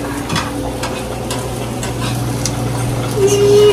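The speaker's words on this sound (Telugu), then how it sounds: "చికెన్ ఫ్రై చేస్తున్నాం" Chicken fries loudly in a pan with a dense, steady sizzle that grows a little stronger toward the end. Faint stirring scrapes and a low hum run underneath.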